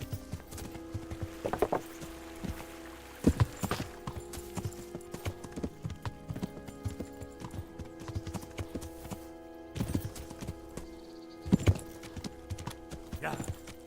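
Horse hooves clip-clopping in the Kingdom Come: Deliverance video game, a steady trotting rhythm with occasional louder thuds and snorts, close and moderately quiet over a low ambient hum.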